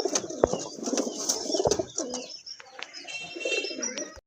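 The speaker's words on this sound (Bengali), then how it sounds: "আরেক জোড়া কবুতর, অনেক বড় সাইজের দেশি কবুতর, অরিজিনাল দেশি কবুতর" Native desi pigeons of large size coo and chirp close by, a steady mix of low throaty coos and sharp bright calls with light shuffling, no talking.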